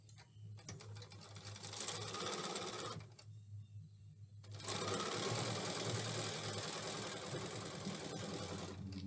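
A sewing machine stitches quilt triangles in long steady runs, a fast rhythmic mechanical whirr close by, pausing briefly in the middle, with no talking.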